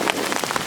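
Steady rain falls outdoors on a South Carolina homestead during a hurricane, a dense close patter on surfaces with no voices.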